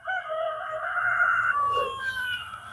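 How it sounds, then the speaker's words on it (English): A rooster crows once in a long, strained, wavering call that sounds sickly, loud and fairly near, with no talk over it. "Oh, that sounds like a sick rooster."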